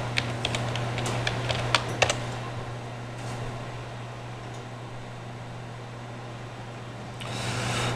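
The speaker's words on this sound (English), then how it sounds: "Let's type in storage." Keys on a computer keyboard are typed in a brief flurry of crisp, close clicks while entering a search term. A steady low fan-like hum continues alone afterward.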